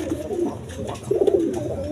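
Pigeons in a sale loft give steady, close, throaty coos in two rolling phrases, with no talk over them.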